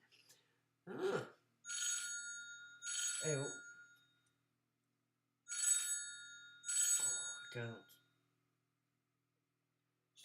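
Telephone ringing in repeated double bursts of bright electronic trills separated by pauses, while a man exclaims briefly between the rings.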